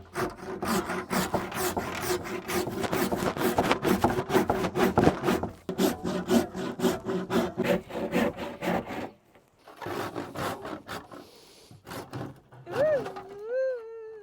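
Hand saw cutting through a kitchen worktop into a corner, with fast, rhythmic rasping strokes that pause, resume in shorter bursts, then stop, and a voice speaking briefly near the end.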